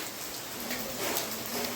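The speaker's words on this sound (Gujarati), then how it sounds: "ધીરે ધીરે ચાલુ થઈ ગયો વરસાદ" Rain falls softly and steadily, a faint continuous patter of drops on surfaces with nothing else standing out.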